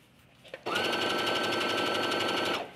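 Sewing machine stitching fabric close to a pin at a seam allowance, a steady loud mechanical whir running about two seconds after a brief rustle, stopping cleanly.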